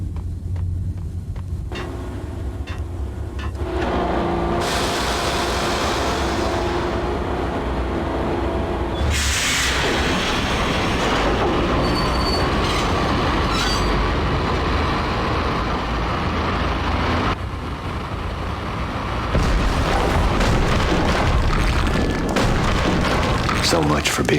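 A train rumbles along the tracks in a video game, a loud, continuous roar with heavy booms and metallic clatter, shifting in intensity over a long stretch beneath a layer of voice and music.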